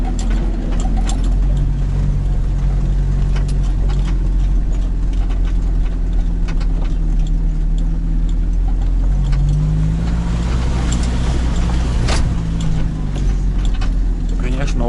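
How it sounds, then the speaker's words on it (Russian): A UAZ off-road vehicle drives along a forest track through a logging area, its engine droning steadily and loudly with clunks and rattles from the body over rough ground, with talk over it. "Конечно, УАЗик проходимая машина."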